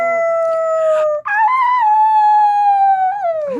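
Several people mimic a werewolf howl in long, rising and falling voiced wails, one drawn-out howl breaking briefly before another carries on and trails off, loud and close with no other talk.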